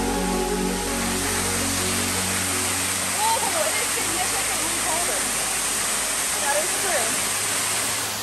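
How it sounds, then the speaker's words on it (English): Waterfall in New River Gorge National Park: a constant, loud rushing roar of falling water, with faint voices mixed in partway through. "there was a waterfall about 15-minute hike away"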